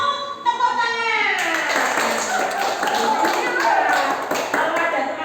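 A group of young children in a preschool storytime clap their hands together, a scattered burst of many small claps following a voice at the start and mixing with chatter for several seconds.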